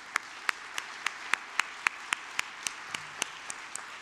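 At a French metropolitan public meeting, a quiet audience gives sparse, evenly spaced claps. Roughly four sharp claps land each second in a steady rhythm, with no talk over them.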